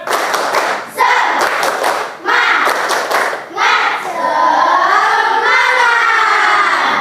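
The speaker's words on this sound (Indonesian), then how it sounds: "Tepuk semangat" Schoolchildren in a fifth-grade math class do a rhythmic spirit clap, bursts of loud unison clapping in a patterned beat, then the group shouts a chant together in the classroom.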